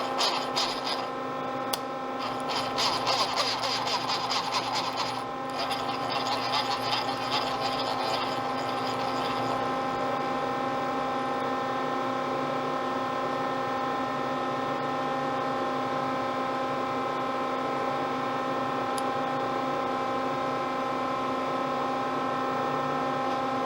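Ikegai AX20 CNC lathe touching off on a machined surface, a steady machine hum with layered tones and a light scratchy tool contact over the first ten seconds, then a continuous drone.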